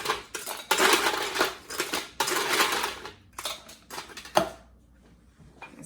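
Ice cubes tumble and clatter into a cocktail glass or shaker for a cognac drink, a dense run of bright crashing rattles followed by a few scattered clinks that settle into quiet.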